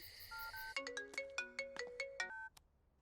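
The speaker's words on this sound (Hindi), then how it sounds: "अब चुपचाप मेरे पापा को फोन लगाओ और उनसे कहो कि तुम्हें रिश्ता मंजूर है" A phone rings while a call is placed to a father, with a steady tone followed by a quick, bright, repeated electronic ringtone pattern of about eight beats, close and clear, then stopping.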